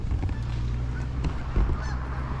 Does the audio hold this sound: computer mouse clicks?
no